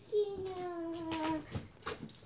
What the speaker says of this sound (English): my dog's being noisy